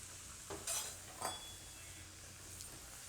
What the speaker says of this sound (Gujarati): તેલ ગરમ થઈ ગયું છે, તેમાં આપણે પૂરી નાખી દેવું